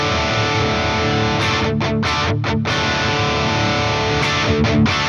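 Electric guitar run through a Fender Tone Master Pro amp with an SDD boost, producing a thick, distorted chord that sustains loudly, with a few short choked gaps near the middle and the end.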